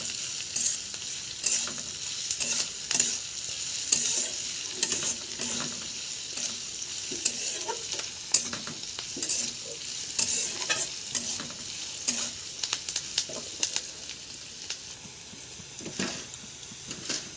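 Onion frying in a pan for a Bengali chicken curry, steady sizzling under repeated scraping strokes of a spatula stirring every second or so, close and fairly loud, no talking.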